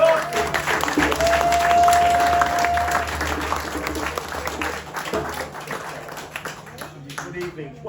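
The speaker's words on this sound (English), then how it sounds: "Can we give her a round of applause?" An audience applauds throughout at a playback theatre evening for Black History Month, a broad, steady wash of clapping from many hands that thins out toward the end, with a voice speaking over it and a brief tone sounding early on.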